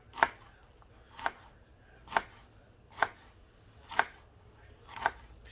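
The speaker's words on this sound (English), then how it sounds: "you just take and cut little chunks. You just want it diced." Sharp knife chopping vegetables into small diced chunks for chilli on a cutting board, six evenly spaced crisp thuds about a second apart, close and clear with no talking.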